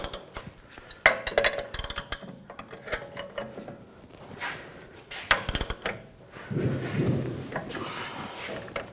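Metal clicks, ratcheting and clinks from a wheel bearing tool being loosened and taken off the rear hub of a 2006-2010 BMW 550i, with sharp close taps and a rougher grinding stretch near the end.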